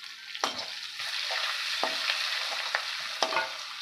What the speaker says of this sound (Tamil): கடுகு வெடிக்குது உளுத்தமரம் போட்டுக்கலாம்